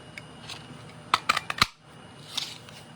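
A craft punch snaps through Shy Shamrock paper to cut out a jar lid, giving a quick cluster of four or five sharp, close clicks, then a lone fainter click a moment later.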